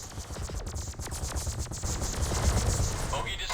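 Weapon fire in the space combat game Freelancer, rapid bursts of laser-like shots crackling in quick succession over a steady engine hum, loud and close, growing denser toward the end.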